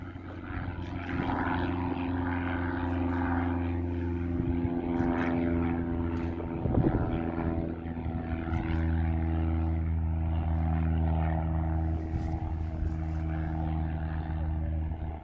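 A propeller aircraft doing a touch and go at Warton, its steady droning engine and prop hum holding loud and continuous throughout, with a brief swell midway and faint background talk.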